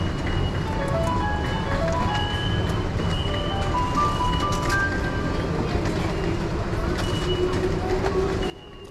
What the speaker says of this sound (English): Everything in Japan seems to play a tune, and the ATMs here are no exception.